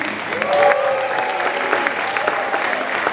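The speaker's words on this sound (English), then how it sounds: "let's give them a round of applause." Audience applause at a school 2nd grade Christmas performance, a steady crowd clapping that fills the whole stretch at moderate loudness, with a faint voice briefly audible underneath.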